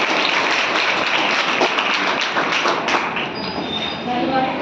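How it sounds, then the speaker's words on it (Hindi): Loud, dense applause from an audience at a Mission Shakti government event on women's empowerment, welcoming a speaker to the stage, sustained and broadband throughout, easing slightly near the end. "जोरदार तालियों से स्वागत।"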